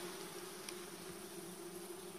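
Honeybees buzz around an open beehive during brood nest expansion, a steady, dense drone that fills the whole moment without pause.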